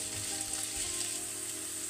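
Carrots and peppers fry in a pan with a steady, close sizzle and faint stirring, continuous throughout with no talk.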